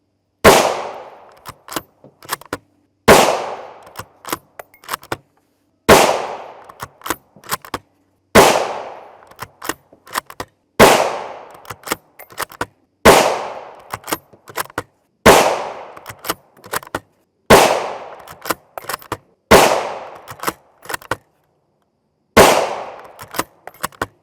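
A Savage 110 Tactical left-hand-eject rifle with a Magpul Hunter stock fires 7.62 NATO 175-grain rounds, about nine sharp, loud shots spaced roughly every three seconds, each ringing out with echoing decay and small clicks between.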